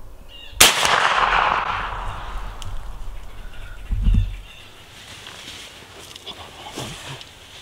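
A single sharp rifle shot cracks out during a deer hunt, loud and close, followed by a fading outdoor rumble, a second dull thump and faint distant background sounds.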